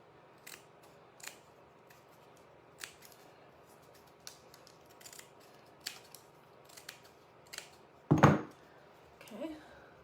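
Scissors trim sheet music paper for a tree topper, making sparse, crisp snips spread over several seconds, then a louder rustle of paper being handled near the end.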